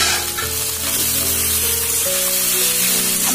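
Pasta noodles sizzle loudly as they hit a hot pan with spices and a little oil, producing a steady, close frying hiss with stirring and scraping throughout.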